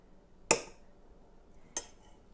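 Two bright metallic clinks of a spoon against a cooking pot while ghee is added, spaced about a second apart in an otherwise quiet kitchen.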